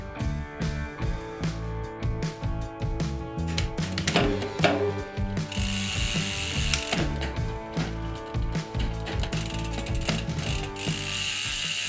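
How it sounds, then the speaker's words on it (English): A mountain bike rear derailleur's cable barrel adjuster turned counterclockwise, giving crisp close ratcheting clicks in quick bursts, mixed with the whir and clatter of the drivetrain as the cranks turn. "I'm going to go ahead and dial out the cable adjustment just a couple clicks counterclockwise"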